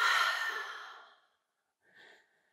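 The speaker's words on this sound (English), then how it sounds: "One more exhale where you are." A deep yoga exhale during a vinyasa heart-opening session, one long breathy sigh fading out, then a short quieter breath after a pause, close and clear with no talking.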